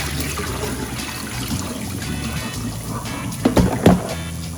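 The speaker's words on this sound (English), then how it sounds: "Rinse this off with my first set of water." Water pours and splashes over about nine pounds of Costco pork back ribs being rinsed, a continuous trickling wash with a couple of louder sloshes near the end, close up and with no talk.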